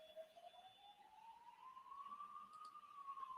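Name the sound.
siren of an emergency vehicle passing outside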